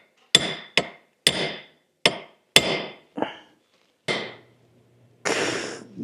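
Hammer blows drive a tubular rivet with two shoulders into a Scout vent window assembly, seven sharp metallic strikes in an uneven rhythm, close and loud, with a slightly longer ringing hit at the end.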